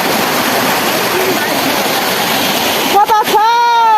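A river stream, where people went looking for fish, rushes in a steady broadband wash of flowing water. Near the end, a brief tonal sound like a voice or call rises above it.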